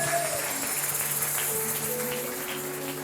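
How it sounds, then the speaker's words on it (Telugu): An audience claps loudly and steadily through a live church gathering, a dense, continuous wash of applause with faint voices mixed underneath. "గట్టిగా చప్పట్లు కొట్టాలా?"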